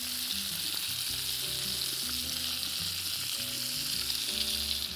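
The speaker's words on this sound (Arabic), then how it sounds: "نحرك الطاسه عشان اتاكد ان هي واخده الحراره متساويه من كل الجهات" Potatoes sizzle and fry steadily in a pan for a potato salad with garlic and parsley, the hot oil crackling loudly and continuously while the pan is shaken, with no talking.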